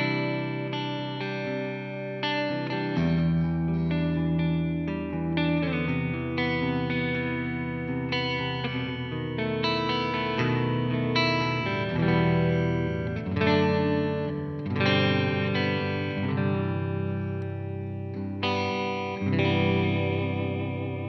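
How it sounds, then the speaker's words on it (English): An electric guitar plays through the clean channel of an ENGL Ironball Special Edition 20 amp with reverb added, a sustained sequence of chords and picked notes ringing with a lush, spacious tail, close and full, with no talking. "we can start with the clean channel and maybe add some reverb to it"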